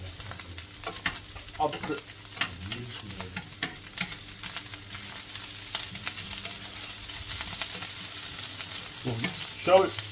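Fried rice with monkfish, scallops and prawns sizzles steadily on a griddle, with intermittent scraping and stirring clatter of a utensil close by and no talk.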